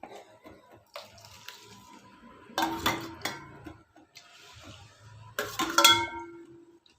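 Hot water poured onto roasted oats in a pan brings bursts of hissing sizzle, separated by scraping stirs and clinks of a spoon against the metal pan.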